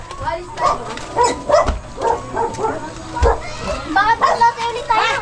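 A dog barks and yips repeatedly in a Filipino village setting, mixed in with people talking and children's voices nearby.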